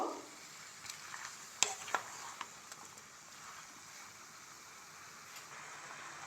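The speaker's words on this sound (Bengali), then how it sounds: "এবার খুব ভালো করে নাড়িয়ে নেব" Garlic cloves and peppercorns stirred in a pan while making homemade tomato sauce, a faint low sizzle with a few light spoon taps and scrapes, quiet and close, with no talking.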